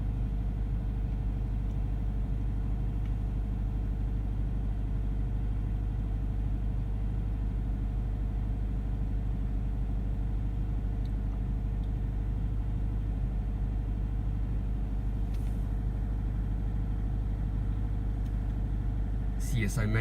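A Toyota GT-86 with a Subaru FA20 flat-four idles high on a sub-zero cold start, a steady low droning hum holding constant throughout, with faint clicks near the end.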